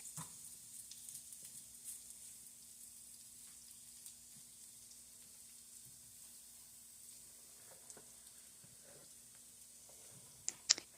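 Boiled potatoes browning in a frying pan for a smoked-sausage potato hash give a faint, steady sizzle under a low hum, with a couple of small sharp clicks near the end.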